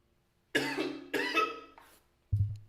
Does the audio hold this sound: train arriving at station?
no